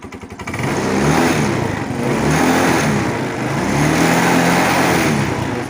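A Yamaha Fino scooter with a broken drive belt starts and revs hard, its engine note rising and falling loudly and continuously through the clip with no talk.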